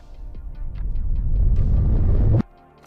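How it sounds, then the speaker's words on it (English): A swelling whoosh builds steadily for about two seconds, then cuts off abruptly, leaving a faint tail. "I will use a reverse boom"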